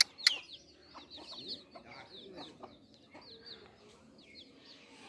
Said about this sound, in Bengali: দেখেন দেশি মুরগি কত সুন্দর লাগতেছে।